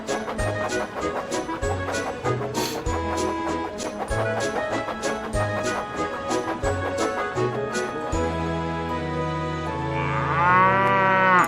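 A cow moos in an animated railway story set on Arlesdale, Sodor, its long rising low call swelling loud near the end over continuous orchestral music.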